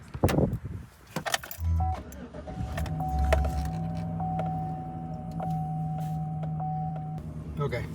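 A Chevrolet Silverado pickup truck starts and idles close by with a steady engine hum, after some clunks and jangling at the start, while a few faint beeps ring over it and a person speaks briefly.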